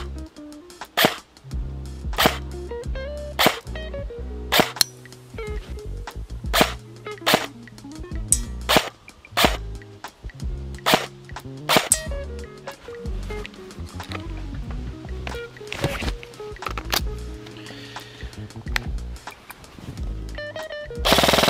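A cheap Well WE01A airsoft PCC fires 0.30 BBs at a small range target in a string of sharp, loud single shots, roughly a dozen and a half snapping reports at irregular intervals with brief mechanical rattles between them.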